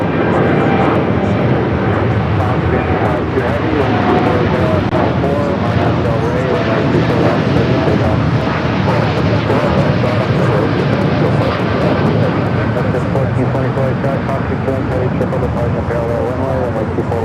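A fixed-wing airliner on approach into LAX, a broad, steady jet roar holding at full strength throughout, with radio chatter and voices faintly present beneath the engine noise.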